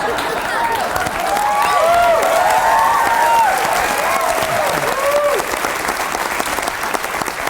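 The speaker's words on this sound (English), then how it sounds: "not sure what that applause means" Studio audience at a sketch comedy show clapping and cheering in a sustained burst, with whoops and shouts rising over the applause before it gradually thins out.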